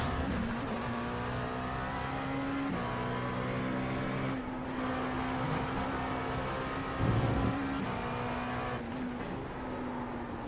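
An LMP2 prototype race car at Watkins Glen in the iRacing sim holds a loud, steady engine drone, with pitch shifting through gear changes and a brief surge near the end.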